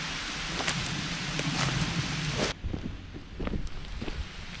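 Steady rain hisses down on trees along a forest trail by a creek, with scattered heavier drops and patter, the texture shifting midway to a sparser, drippier sound.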